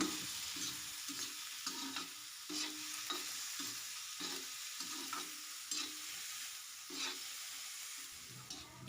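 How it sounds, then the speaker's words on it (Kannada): Seven or eight green chillies fry in hot oil in a pan with a close, continuous sizzle, broken by repeated rhythmic stirring scrapes, and no talking. "ಏಳೆಂಟು ಹಸಿರು ಮೆಣಸಿನ್ಕಾಯಿ ತೊಗೊಂಡಿದ್ದೀನಿ ಈಗ ಇವನ್ನ ಚೆನ್ನಾಗಿ ಫ್ರೈ ಮಾಡ್ಕೊಳ್ಳೋಣ"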